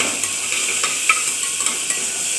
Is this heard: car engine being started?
no